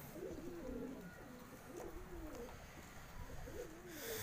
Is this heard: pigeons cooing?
yes